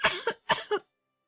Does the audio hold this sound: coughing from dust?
yes